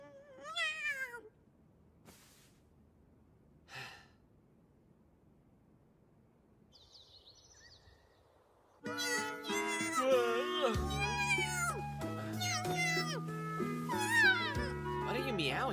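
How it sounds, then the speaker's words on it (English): A cat meows a few times in an anime movie scene, brief rising calls spaced apart amid quiet, before loud orchestral music swells in and dominates the rest. "What are you meowing at so early?"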